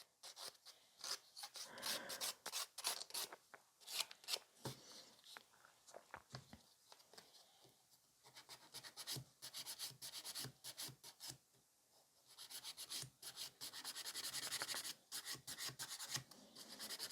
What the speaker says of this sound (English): when I'm filing, I like to actually hold my nails so they do not wobble too much